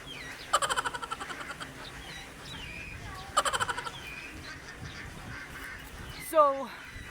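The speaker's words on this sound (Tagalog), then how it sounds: "And ito nga pala guys ay itikan guys." Ducks at a duck farm give bursts of loud, rapid honking quacks in two main volleys, with a sharper squawk near the end over a steady outdoor background.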